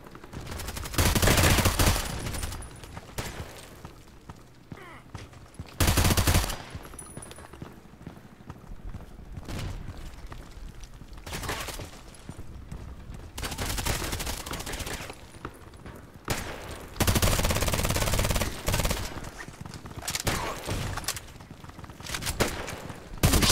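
Gunfire in the Contract Wars online shooter game, bursts of rapid automatic fire and single shots coming in loud clusters separated by quieter gaps, spread across the whole stretch.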